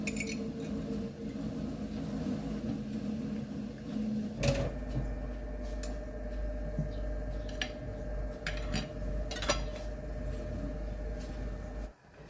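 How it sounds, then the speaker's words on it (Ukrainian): Five glass jars set into a saucepan for sterilizing clink and knock against each other and the metal a few times, sharp clinks scattered over a steady low kitchen hum. "всі баночки в мене 5 помістилися в цю каструльку"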